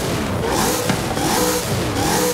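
A 6.5-litre V12 car engine in the racing game Forza Horizon 5 roars loudly and continuously, a dense sustained engine note with slight swells in pitch, heard alone without talk.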